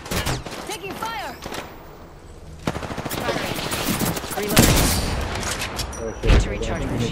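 Apex Legends gunfire in a firefight: rapid automatic bursts and single shots, loud and close, with quieter gaps between volleys and a voice talking over parts of it.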